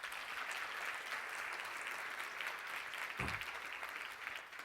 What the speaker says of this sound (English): So how about a round of applause for Susan Hedstrom here?